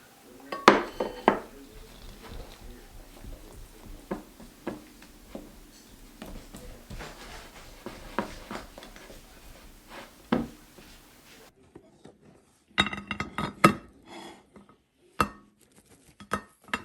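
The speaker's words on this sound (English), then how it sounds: "And then we're just going to stir it up." An orange peel mixture for an orange cinnamon pull-apart bread is stirred in a bowl, with irregular clinks and scrapes of a utensil against the dish, close and fairly quiet, pausing briefly before a final burst of knocks.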